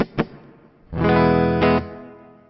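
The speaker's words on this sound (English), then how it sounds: "Okay, let's move along to the Hall Reverb." A guitar played through the hall reverb setting of a NuX Atlantic delay and reverb pedal: a brief plucked note, then a loud sustained chord that rings out and fades slowly into a long, spacious tail.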